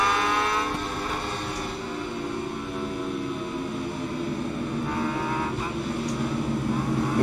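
A racing motorcycle engine in the video game SBK 22 drones at high revs, a steady buzzing whine with slight pitch shifts as the bike brakes and accelerates, continuous and fairly close.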